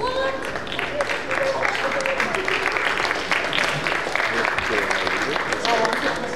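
An audience at a stage event applauds in a continuous, even wash of clapping, with talking and music over it throughout.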